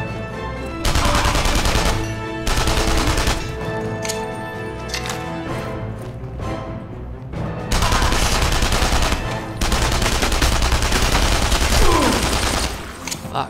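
Gunfire erupts in the video game Enemy Front. Loud, dense bursts of rapid shots are broken by short pauses, with faint voices underneath.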